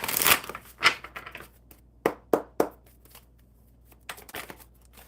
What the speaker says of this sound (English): So I'm going to shuffle these real quick.